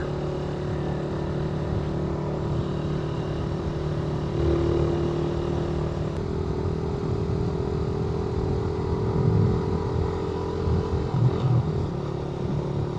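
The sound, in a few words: Suzuki Raider motorcycle riding up a steep road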